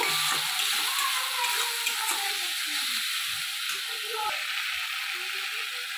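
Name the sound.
sautéing spice paste with onion and tomato paste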